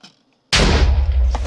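Silence, then a sudden loud boom from a TNT explosion in Minecraft, with a rumbling, crackling tail that keeps going to the end.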